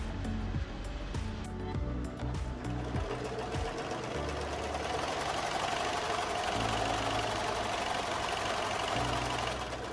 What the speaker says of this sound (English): Flip it and sew down one side, 5/8 that side right there